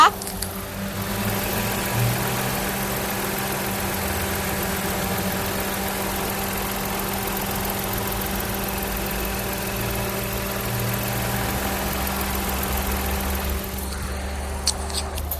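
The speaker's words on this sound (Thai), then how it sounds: "และนี้ก็เป็นเสียงเครื่องยนต์ของเจ้าคันนี้นะคะ" A 2018 Mitsubishi Attrage 1.2 GLX car engine idles steadily and smoothly, a continuous low hum with a faint rumble, running alone without any speech.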